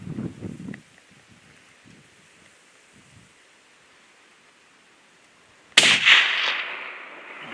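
A single sharp rifle shot cracks out loud and close during a nyala hunt, ringing briefly into the surrounding bush after a stretch of quiet rustling and faint movement.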